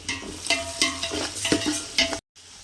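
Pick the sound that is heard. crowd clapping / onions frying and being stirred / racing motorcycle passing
onions frying and being stirred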